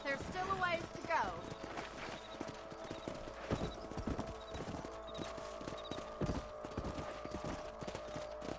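Horses trotting in the Red Dead Redemption video game, a steady run of hoof clip-clops with a short whinny near the start, heard over a faint game backdrop.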